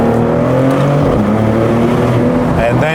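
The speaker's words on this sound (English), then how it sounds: "This is where you unleash the full power of the engine." A Maserati GranTurismo in Corsa mode at full power gives a loud, continuous engine roar with a strong harmonic drone. The pitch climbs sharply near the end as the revs rise.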